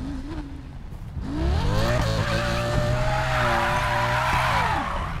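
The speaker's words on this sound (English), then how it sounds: "Yeah, that's the Lamborghini Huracan." A high-revving Lamborghini Huracan engine in Need For Speed Payback climbs and holds a loud, steady roar with tire squeal mixed in, close and continuous with no talking.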